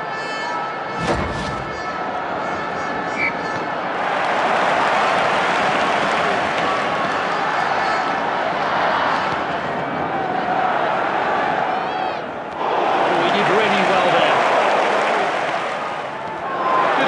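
A stadium crowd in Dream League Soccer 2018 roars after a goal, a broad, sustained cheer that swells and dips, with a commentator speaking over it.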